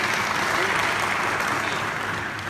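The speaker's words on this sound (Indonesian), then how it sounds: "tepuk tangan dong buat Tuhan Yesus" Steady applause from a church congregation fills the whole stretch, dense and continuous at an even level before easing slightly near the end, with no voices standing out.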